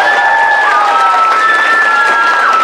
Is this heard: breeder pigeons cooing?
no